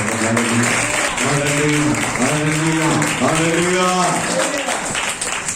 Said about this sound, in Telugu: చప్పట్లు కూడా దేవుడికి స్తోత్రం